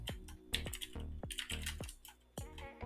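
Bursts of keyboard typing, close and clear, with quick clusters of key clicks separated by short pauses.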